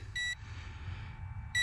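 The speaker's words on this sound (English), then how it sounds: "we're getting a beeping" A Snaptain SP7100 GPS drone sounds short electronic beeps as it arms, two brief tonal bursts, one at the start and one at the end, over a low steady background hum.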